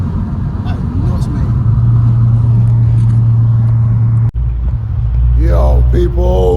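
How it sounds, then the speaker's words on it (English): Audi S3 8Y driving fast, a loud steady engine drone and road rumble inside the cabin that shifts in pitch midway, with excited voices talking over it toward the end. "This car is quick."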